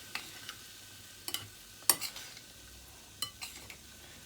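Spoon gently stirring a lemon and pepper mixture in a bowl, a few soft, sparse clinks and scrapes scattered across a quiet background.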